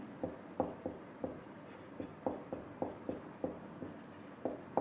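Chalk or marker writing on a board during a Class 12 physics lecture on electric potential, a steady run of short, scratchy strokes and taps at an even pace, fairly close, with no talking.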